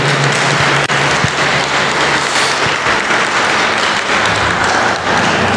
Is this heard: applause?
yes